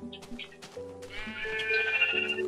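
Sheep bleats in Minecraft on Xbox 360 come in short bursts, followed by a longer wavering bleat layered over steady game music and tonal effects.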